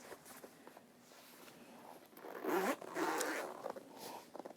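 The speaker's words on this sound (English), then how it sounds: "Zip it shut." A zipper is pulled shut in a few rasping strokes, close and fairly loud, with faint rustling and handling noise around it.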